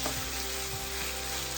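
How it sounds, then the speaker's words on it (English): Marinated beef pan-seared over high heat gives a steady, close sizzle and crackle of frying, continuous and unbroken with no talk. "So we're going to pan sear this beef"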